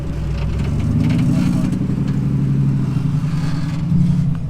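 An off-road Jeep on 40-inch Nitto Trail Grappler tires crawls over a rocky Colorado trail near Montrose, its engine a steady, close mid-pitched drone with a slight rise in revs toward the end.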